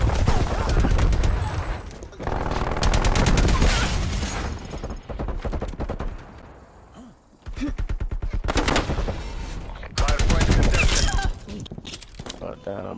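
Rapid bursts of automatic C58 rifle fire in the Black Ops Cold War multiplayer shooter, loud and close, with short pauses for reloading, game effects around it and someone talking over the shooting.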